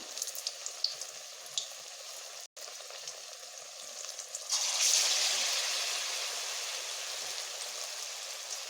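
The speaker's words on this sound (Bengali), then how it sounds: "এইভাবে আমি এগুলোকে বেশ লাল লাল করে ভেজে নিচ্ছি" Arum leaves coated in rice flour fry in hot oil with a steady, close sizzle and crackle that swells louder partway through, then continues as a dense, even hiss with no talking.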